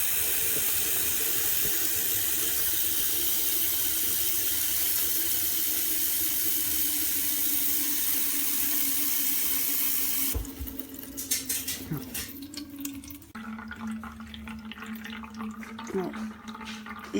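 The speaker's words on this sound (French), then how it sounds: "je place la nouvelle cartouche et je vais venir remplir le pot à eau intégralement" Tap water runs steadily into a Brita water filter pitcher with a new cartridge, a constant loud rush that changes to a lighter, filling trickle with shifting tone partway through.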